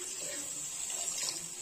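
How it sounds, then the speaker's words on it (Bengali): Water splashes into a pan of fish curry with spiced oil, a brief, steady pouring hiss at a modest level close by. "এই অবস্থাতেই অল্প জল দিয়ে দেব।"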